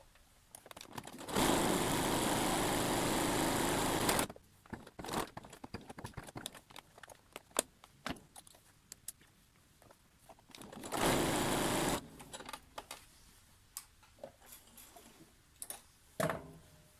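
A sewing machine stitches a gathering row in the seam allowance of fabric, running in two loud, steady bursts of rapid whirring separated by quieter handling, rustling and clicks.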